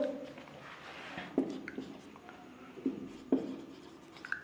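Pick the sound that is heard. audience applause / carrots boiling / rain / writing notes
writing notes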